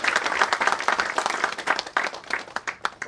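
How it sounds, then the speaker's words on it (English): An audience in a seminar room breaks into applause, dense, close clapping from many hands sustained for a few seconds. "If you agree, give me a round of applause."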